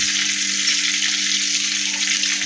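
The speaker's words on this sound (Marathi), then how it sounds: "हे आपल्याला तेलामध्ये तळून घ्यायचं आहे" Whole spices (cardamom, cloves, cinnamon, black pepper, bay leaf) frying in hot oil, a steady close, loud sizzle and crackle running without a break, with a low constant hum beneath and no talking.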